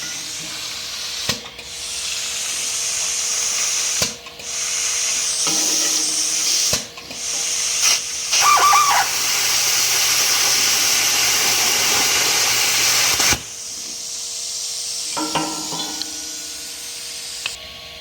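A faulty air compressor gives off loud, steady broadband hissing in long stretches, broken by brief dropouts and short bursts of mechanical clatter, with no talking.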